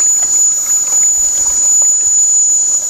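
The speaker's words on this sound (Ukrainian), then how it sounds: "Вмикаємо воскотопку в роботу." A centrifuge beeswax melter powered by a steam generator runs with a loud, steady high-pitched whine and a faint, even mechanical hum beneath it.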